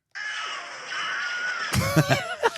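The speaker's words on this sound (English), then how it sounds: "And then they're shooting at him, and then you get our Wilhelm Scream." A shrill, drawn-out scream in the style of the Wilhelm Scream stock film effect from Star Wars: A New Hope, rising loud and then breaking into choppy, strained yelps at the end.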